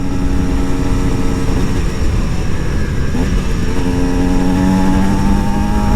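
An Aprilia SX-125 two-stroke supermoto motorcycle is ridden at steady speed, its engine droning with rising and falling pitch under heavy wind rush.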